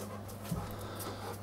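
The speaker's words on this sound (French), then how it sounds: "C'est un chien qui est assez imposant," A large dog pants softly and steadily, quick faint breaths close by in a quiet room, with one small catch in the rhythm.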